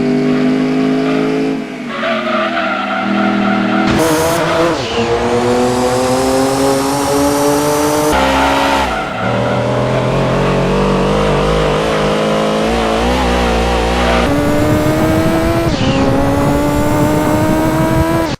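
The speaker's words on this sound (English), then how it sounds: "nearly every car has a unique engine noise" Loud Gran Turismo 2 racing car engines whine and rise through the gears in synthetic, game-like tones, with occasional tire squeals and abrupt shifts.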